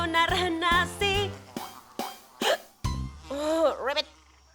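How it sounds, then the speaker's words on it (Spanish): A cartoon frog character hiccups several times in quick, squeaky bursts, alternating with lively sung or spoken lines and a bouncy comic effect, all close and clear. "¿Qué hace una rana con hipo aquí?"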